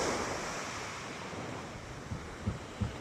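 Waves wash in at the seaside under wind noise, a faint, steady surf with a few soft low thumps toward the end.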